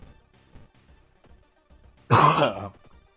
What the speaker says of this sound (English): a lot of my coughing is due to my sore throat